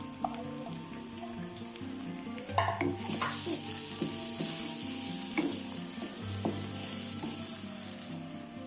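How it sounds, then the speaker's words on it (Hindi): Onions brown in hot oil with ginger garlic paste for a chicken masala curry, a close sizzle that swells into a brighter hiss partway through, broken by scattered clinks and scrapes of stirring. "हम प्याज को ब्राउन करेंगे। हम इसमें अदरक और लहसुन का पेस्ट भी शामिल कर लेते हैं।"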